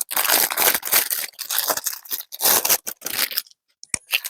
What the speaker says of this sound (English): Okay, sorry for the crinkle, everybody.